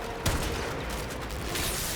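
A single loud sniper rifle shot in the video game Warframe, a sharp punchy crack early on, followed by a low ambient game soundscape.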